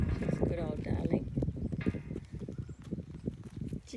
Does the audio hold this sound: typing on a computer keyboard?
no